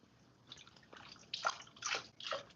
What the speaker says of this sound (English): give them a rinse